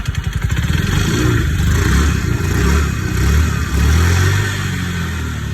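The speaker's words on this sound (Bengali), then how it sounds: "বাইকের সাউন্ডটা দেখো বন্ধুরা, কত সুন্দর সাউন্ড।" Nearby revving from a used Yamaha Fascino 125cc scooter engine, loud and continuous, rising and falling through several throttle blips over a steady mechanical putter.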